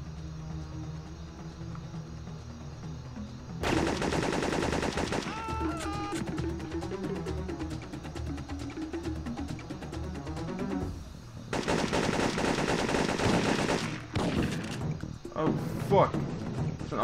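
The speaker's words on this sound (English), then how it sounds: "Automated turret." Automated turret in Syphon Filter 3 fires in two long sustained bursts of rapid gunfire, loud and dense, separated by a quieter stretch of game noise and mechanical clatter.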